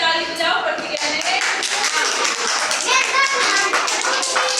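A group, seemingly children, claps hands together in a dense, continuous burst of applause lasting several seconds, loud and close, with some voices mixed in.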